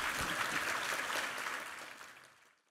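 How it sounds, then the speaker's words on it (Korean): A church congregation claps during a revival service, a broad burst of applause that holds steady and then fades out near the end, with no speech over it. "우리 하나님께 감사와 영광의 박수 올려드리겠습니다"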